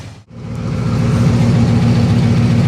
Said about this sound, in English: We'll drive this thing out, let it idle away, and see if it yaks its guts out.